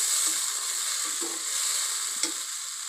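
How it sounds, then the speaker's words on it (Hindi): Onions frying in oil for mutter gosht, a steady close sizzle with a few soft scrapes of stirring in the pan. "जब तक हमारे जो ये प्याज है ये पक जाते हैं"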